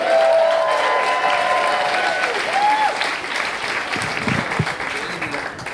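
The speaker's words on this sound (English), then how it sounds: "a lot of noise for Eddie right now, Eddie." Loud audience applause and clapping from a crowd, fading slightly as it goes on, with a few voices faintly audible.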